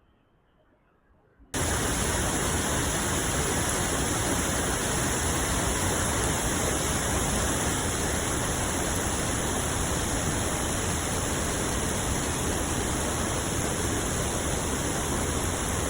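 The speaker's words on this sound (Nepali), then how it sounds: "ठुलो पानी परिरहेको छ" Heavy rain pours down at Sundarijal, a steady, loud broadband hiss that starts abruptly after a quiet moment and continues without a break, close and enveloping.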